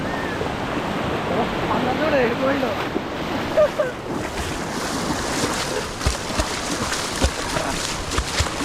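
Sea waves wash in at a Pondicherry beach, a continuous rolling surf with wind gusting across the microphone, while people talk over the water.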